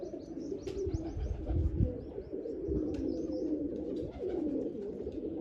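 A pair of pigeons, one marked with red on the wings and one blue, settling on a perch; soft low cooing blends with sharper chirps over a steady outdoor hum, moderately close with no talk.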